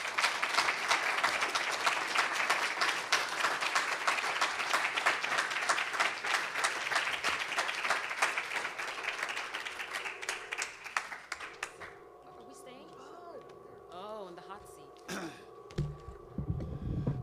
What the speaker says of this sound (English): Let's have another round of applause for Simonette Quamina.